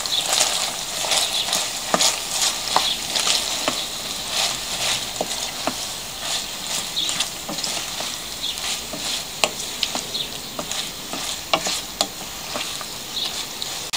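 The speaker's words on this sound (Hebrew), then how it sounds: "אני מערבבת" Sweet paprika fries in a pan while being stirred, giving a steady sizzle with frequent light scraping and tapping of the spoon against the pan throughout.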